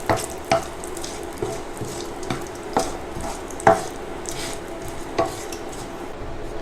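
Cumin, bay leaves, dry chillies and asafoetida sauté in hot oil in a pan. A low, steady sizzle runs under evenly spaced spoon taps and clinks against the metal.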